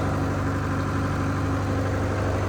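A Case 695 backhoe loader's diesel engine idles steadily in a low, even rumble, heard up close inside the cab with a constant vibrating drone and no talking.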